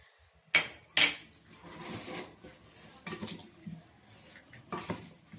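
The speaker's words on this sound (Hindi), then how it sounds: "तऽ ई मिला रहल छी नून दऽ कऽ" Goat meat being stirred with salt in a metal pot for a Holi-style curry: close, irregular clinks and scrapes of a spoon against the pot, with two sharp knocks near the start and softer shuffling after.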